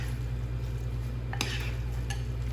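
A vegan jackfruit tuna mixture is stirred in a bowl, soft scraping under a steady low hum, with two brief clinks of a utensil.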